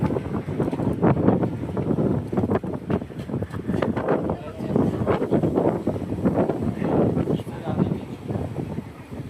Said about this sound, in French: La mer est super agitée, vous devez entendre le vent.